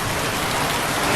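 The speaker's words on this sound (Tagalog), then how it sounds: "Biglang lakas ng ulan." Heavy rain pouring down, a dense unbroken hiss of drops striking surfaces, loud and close, with no voices.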